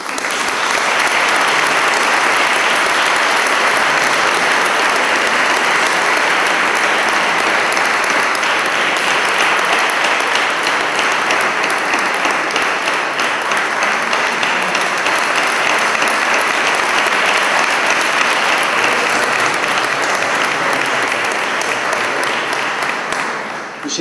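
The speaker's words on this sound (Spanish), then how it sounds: "a la cual pido un aplauso de todos" Sustained applause from a lecture audience at a religious brotherhood's talk, dense and steady clapping filling the whole stretch before fading slightly at the end.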